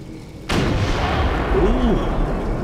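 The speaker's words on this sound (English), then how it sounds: "Ooh, fireworks." Video game fireworks: a sudden loud burst erupts into a sustained crackling rumble of explosions, with a whistling tone rising and falling near the end.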